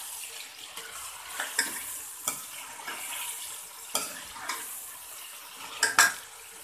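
Chicken fries with ginger garlic paste in a pan, giving a steady sizzle while a utensil stirs and scrapes against the metal in irregular knocks. The sound is close, with no talking.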